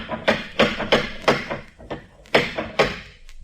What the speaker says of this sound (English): You could have heard that last knock out of the Farallones.